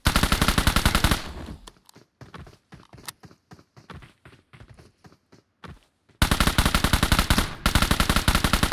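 Rapid automatic gunfire rattles loudly in a video game match, a long burst opening and another closing, with quieter scattered shots and footstep-like thuds between.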